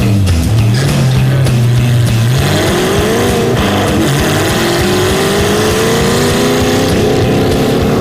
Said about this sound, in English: Driving the MG with shocks on full soft, the wheels are bouncing around all over the place.